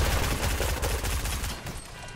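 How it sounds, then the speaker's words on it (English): Rapid gunfire from the battle royale game Fortnite, a dense burst of repeated shots rattling steadily at close range for about two seconds with no talk over it. "Oh, lady, I just shot you so many fucking times."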